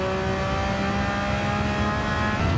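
A rear-engined Porsche 911 racing in Gran Turismo 7, its engine holding a loud, steady high-revving drone with layered harmonic tones throughout, without a break.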